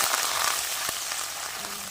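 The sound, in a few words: onions, ginger and chilli frying in a pan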